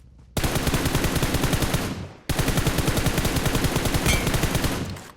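A player fires a gun at an enemy in a shooter game. Two long, evenly paced bursts of rapid automatic shots come close and loud, with a short pause between them.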